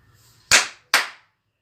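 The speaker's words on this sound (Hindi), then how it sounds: "हथेलियों के आपस में इस तरह टकराने पर एक आवाज़ उत्पन्न हुई, इसे ही हम आहत नाद कहते हैं।" Two sharp hand claps ring out about half a second apart, close and loud, each with a short decaying tail and quiet between them.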